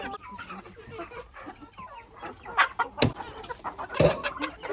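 Chickens cluck in a henhouse, including a Faverolles hen, with scattered close calls and a few sharp louder squawks over soft rustling.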